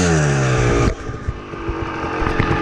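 A Kawasaki KX dirt bike fresh from a tune-up with new spark plugs and an adjusted clutch revs loud and close, its pitch falling from a high rev into a choppy, popping idle, then picking up again.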